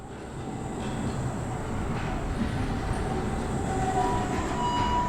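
A tram rolls steadily through a facility in the video game Abiotic Factor, a continuous low rumble of rail travel with a faint rising whine near the end, no speech.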